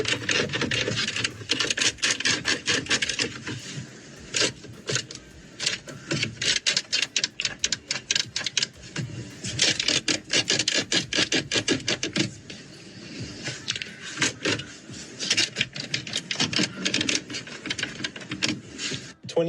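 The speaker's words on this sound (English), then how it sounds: "I don't think I have ever heard more squeaks in a car than this before." Squeaks and rattles fill the inside of a Hyundai car, a dense run of sharp creaks and clicks. It keeps up steadily for the whole stretch with no talk over it.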